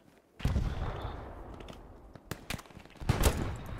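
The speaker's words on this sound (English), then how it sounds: "someone's shooting at me" Gunfire in the World War II shooter Hell Let Loose: a heavy burst of shots opens the clip, followed by sharp separate cracks and another cluster near the end, fairly close and loud with no talk.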